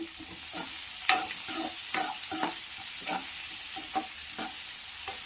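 Onions fry in a pan with a soft, steady sizzle, broken by repeated scraping and stirring strokes at close range, with no talking.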